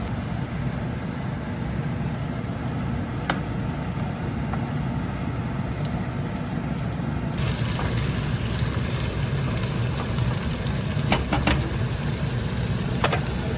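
Water poured off through a strainer while cooking chicken fajitas, a steady broadband rushing splash that runs throughout and grows brighter and louder about halfway through, with small clinks near the end.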